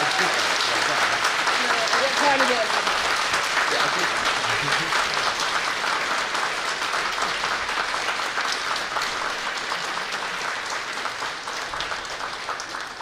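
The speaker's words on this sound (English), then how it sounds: "give them an enormous round of applause" A large crowd at a Bath Spa University School of Education winter graduation ceremony gives dense, sustained applause that holds loud and even, then thins slightly toward the end.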